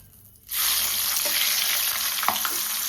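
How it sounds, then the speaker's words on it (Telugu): Green chillies and curry leaves hit hot oil with a sudden loud burst of frying. The sizzle stays strong and continuous, with a couple of brief pops, while chicken pakoda is prepared. "మిరపకాయలు రెండు కరివేపాకు రెబ్బలు ఈ ఆయిల్లో వేపుదాం"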